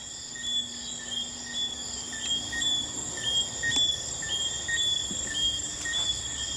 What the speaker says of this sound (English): you can hear those like crickets and frogs and stuff outside.